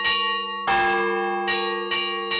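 Church bells in Diamantina, Minas Gerais, ring loud and near in repeated struck tolls, each one leaving a long, rich, ringing tail.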